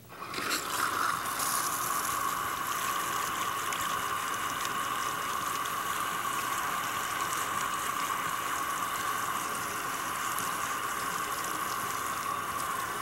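Water from a salon rinse sprays steadily onto hair, rinsing out shampoo in a continuous close hiss that starts abruptly and keeps an even, unbroken rush for the whole stretch with no talking.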